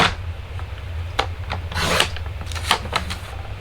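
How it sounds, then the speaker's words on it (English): A paper trimmer slices card to 4 1/8 inches, heard as a few short close scraping swipes and rubs, one longer rasping pass in the middle, no speech. "So let's grab our trimmer again"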